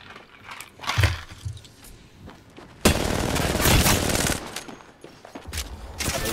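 Gunfire in a video game: sporadic single shots early, then a loud sustained burst of rapid automatic fire lasting about two seconds, followed by scattered further shots.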